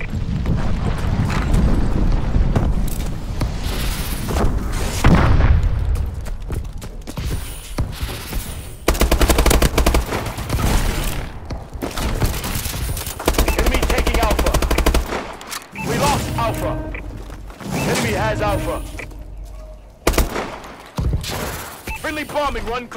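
Heavy gunfire and bombing-run explosions in Call of Duty Advanced Warfare multiplayer, with dense machine-gun bursts and deep booming blasts rolling through the whole stretch, loud and continuous, broken by brief lulls.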